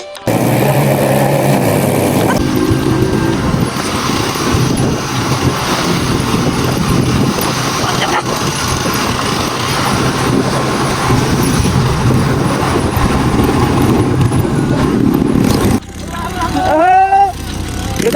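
A Ducati motorcycle engine roars loud and close at a Himalayan Holi celebration in Simikot, a sustained rumbling drone that drops off near the end as voices come in.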